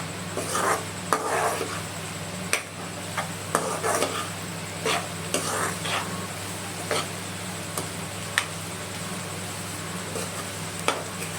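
Chili powder frying in oil keeps up a low, steady sizzle while a spoon scrapes and taps the pan at irregular intervals, close and moderate in volume, with no talking.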